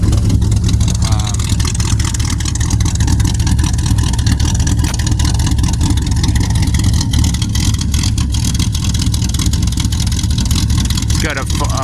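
A Chevy S-10 pickup's 406 cubic-inch small-block stroker V8 idles loud and close with a heavy, lumpy low-end rumble, steady throughout, while someone talks over it.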